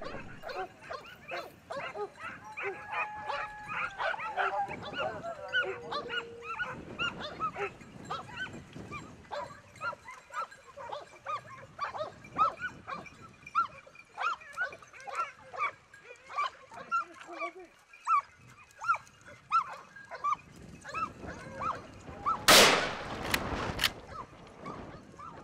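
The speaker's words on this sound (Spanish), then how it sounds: "Esta es la constante de la montería, reses acosadas por los perros" Pack of hunting dogs barking and yelping while chasing deer and wild boar on a Spanish montería, excited barks and whimpers overlapping near and far, with bursts of louder yapping late on.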